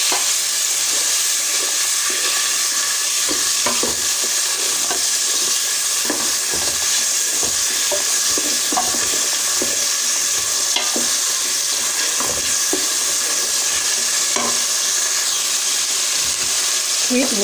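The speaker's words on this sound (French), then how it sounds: "Là, nous allons mettre dans de l'huile pour préparer notre sauce tomate. Nous allons bien remuer." Julienned garlic frying in oil as the base of a tomato sauce for Central African Nguiriki, a loud continuous sizzle with frequent stirring scrapes and taps close up.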